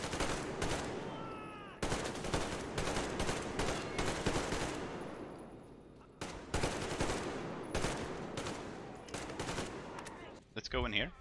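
Gunfire in the video game Metro Exodus: repeated rapid bursts of automatic shots, loud and close, separated by short pauses, with a shouted command in the mix.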